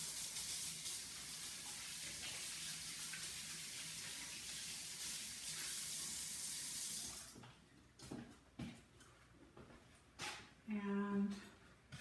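Water running from a kitchen tap while hands are washed, a steady loud rush for about seven seconds, then the flow stops, followed by faint clatter and a short dog bark.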